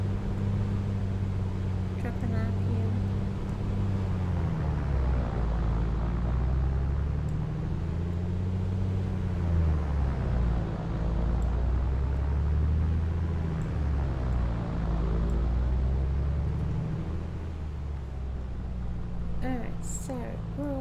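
Engine run-up of a Comanche 250 light aircraft in a flight simulator: a steady low propeller drone with slowly wavering pitch as the RPM is dropped and brought back, continuous and loud throughout.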